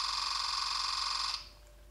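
A Canon EOS R10 camera firing a burst with its electronic-shutter sound effect switched on gives a bright, steady pulsing electronic tone that runs for over a second, then cuts off into near silence.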